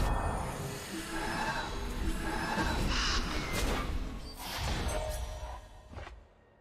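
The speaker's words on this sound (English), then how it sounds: "Finally got our crows." Synthetic crows cawing in the digital card game Eternal, a few harsh caws over a dense layer of game effects and whooshes, fading out at the end.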